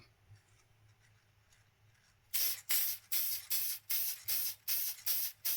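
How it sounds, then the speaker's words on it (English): After a quiet start, an aerosol can sprays patina finish onto a half penny ring in about eight short, even bursts, each a sharp hiss with brief gaps between. "I'll give it a spray."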